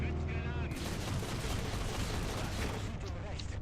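Panzer II DAK autocannon firing in War Thunder: a dense, loud burst of rapid gunfire with explosive cracks filling most of the moment, over a talking voice.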